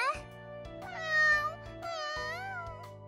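A lost kitten in a visual novel game lets out a few clear, tonal meows, rising and bending in pitch, close and distinct against a quiet background.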